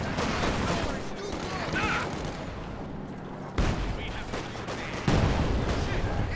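Katyusha rocket barrage in the video game Company of Heroes 2, a dense rumble of rapid explosions and gunfire with heavy booming impacts hitting in bursts, loud and close, with speech underneath.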